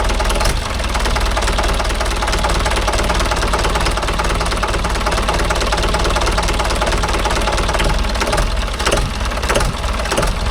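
Diesel engine of a Mahindra 575 DI tractor with an inline pump running at a slow idle, a steady, loud knocking rumble with constant vibration throughout.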